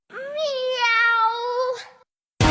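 A cat gives one long, clear meow close by, rising and holding before trailing off, followed by a short silence and then an abrupt burst of other noise.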